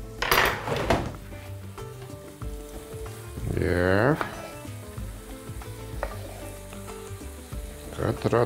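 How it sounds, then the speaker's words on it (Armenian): Vegetables sizzle and fry steadily in a pan as fresh tomato goes in, with a few stirring scrapes and clinks of cookware, and a strong burst of hissing midway through. "Տապակվող բանջարեղենին կավելացնեմ թարմ լոլիկ։"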